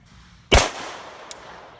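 A Para Ordnance 1911 pistol built for competition, fired once outdoors: a single sharp, loud report that rings off quickly, followed by a small click or clink less than a second later.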